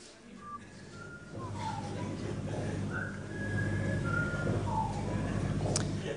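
A boxer whistles a casual tune over a steady background of noise, with the whistled notes clear and audible but fairly soft.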